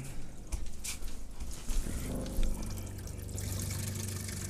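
An RV water pump pushes pink antifreeze through the plumbing during winterizing, heard as pouring and trickling liquid with a low pump hum building toward the end, fairly close and without speech.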